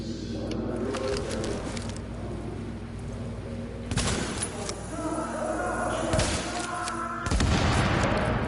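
A reservoir tank is blown up in the video game The Division. A steady background hum is punctuated by several heavy booms and thuds, mixed with scattered bursts of gunfire.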